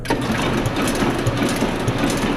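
Vacuum pump on a printing press feeder running steadily, a continuous broadband mechanical whir with a faint rhythmic pulsing, close and moderately loud, no voices.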